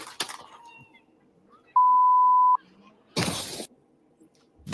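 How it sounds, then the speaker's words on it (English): A single steady censor beep tone sounds for about a second between brief bursts of noise and muffled activity. "The beeping tone you heard was to cover up some expletives"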